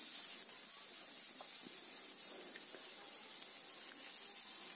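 Onion and green chilli frying in oil in a pan, a steady soft sizzle with faint crackles running evenly throughout, nobody talking.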